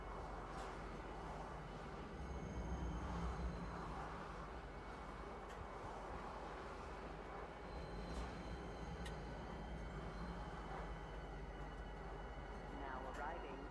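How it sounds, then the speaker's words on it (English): Train running in the space game Star Citizen, a steady low rumble and rolling hum throughout with faint whooshes, heard up close as a passenger aboard. "Choo choo on the train."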